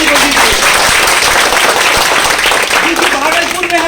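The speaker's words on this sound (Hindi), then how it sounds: "श्री MM निषाद सर के लिए एक बार जोरदार मर्दों वाली ताली बजाइए" Crowd at the opening of a Bhagalpur amusement park clapping loudly and continuously, with a voice speaking over the applause.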